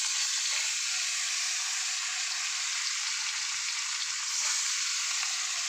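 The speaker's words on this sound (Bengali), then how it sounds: "তো চলো মাছগুলো এখন এক এক করে ভেজে নেওয়া" Large koi fish frying in hot oil in a pan, making a loud, dense, continuous sizzle and hiss that barely changes throughout.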